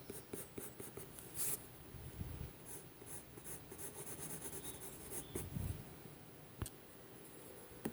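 A Bruynzeel colored pencil scratches over paper in short, soft strokes with occasional light taps, very faint and close, with no talking.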